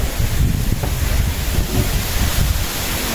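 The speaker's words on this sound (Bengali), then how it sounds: "বৃষ্টিও আসবে, বাতাস ছাড়ছে" Gusty wind before a storm rushes over an outdoor riverside cooking spot, a loud, steady rumbling buffet against the microphone lasting throughout, with no voices.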